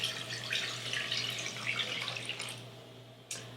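Water is poured from a tap-like stream into a stainless steel pot while making elderberry syrup from dried elderberries, a steady close splashing that tapers off near the end, with a low hum underneath.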